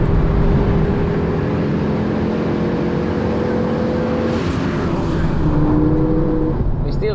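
A Ford Focus RS500 engine pulls hard through its gears on the Nürburgring, a loud, steady roar with rising pitch and brief dips at each shift, heard close from inside the car.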